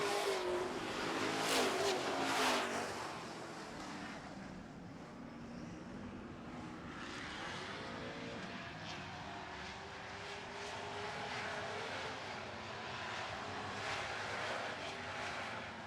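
Super trucks racing on an oval track, a loud roar of engines sweeping past up close at the start, then a steady, more distant drone of trucks circling the oval.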